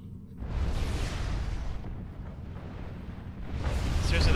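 Artillery fire in the strategy game Supreme Commander 2, two broad rumbling blasts, one swelling early and another building near the end, loud and close.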